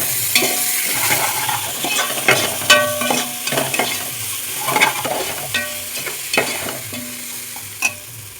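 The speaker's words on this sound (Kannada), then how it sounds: "ಈಗ 1 ಟೊಮಾಟೋನ ಕಟ್ ಮಾಡ್ಕೊಂಡಿದ್ದೀನಿ, ಅದನ್ನು ಆ್ಯಡ್ ಮಾಡ್ತಿದ್ದೀನಿ." Chopped tomato fries in a pan for village-style biryani, a soft continuous sizzle broken by repeated scraping and clinking strokes of a spoon stirring against the pan, close by and with no talk.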